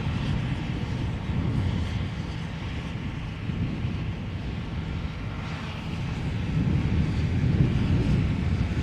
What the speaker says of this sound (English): that's a Dreamliner taking off from 18 left